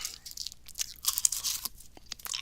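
Close, crisp crunching of a hard cough drop being bitten, several sharp cracks in quick succession.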